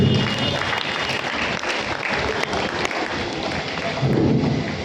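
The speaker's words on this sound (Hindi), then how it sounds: "जोरदार ताली बजाओ हमारे रंजिता दीदी के लिए" A crowd at a spiritual talk on stress-free living breaks into loud, continuous clapping in honor of a sister, a dense roar of hands with occasional heavier thumps.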